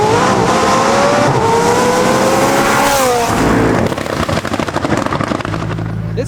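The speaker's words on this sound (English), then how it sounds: "This car is crazy. Why is it so loud, bro? It's fully tuned, 1250 horsepower." A fully tuned 1250-horsepower car engine roars loudly and close, rising in pitch through a long rev before dropping to a rough, throbbing idle, with no talk over it.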